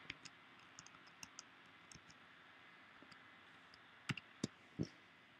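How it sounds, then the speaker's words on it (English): A computer keyboard being typed on, a sparse run of light, close clicks and key taps scattered over a faint hiss, ending with a few louder clacks. "click inside my window, and type out"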